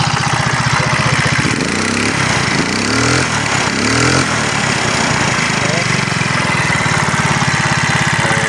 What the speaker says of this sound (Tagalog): Kick po muna natin. So ayan na po siya ngayon at umaandar na.